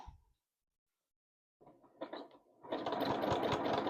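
A domestic sewing machine set up for free-motion quilting, starting with a few short stitch bursts before settling into a steady, continuous run of close, moderately loud stitching after a brief silence.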